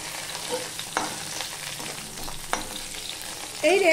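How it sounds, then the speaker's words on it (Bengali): Okra (ladies finger) fries in a pan with a steady crackling sizzle, punctuated by a few sharp stirring scrapes and a louder clattering burst near the end. "ভেন্ডি সব ভাজা হয়ে গেছে।"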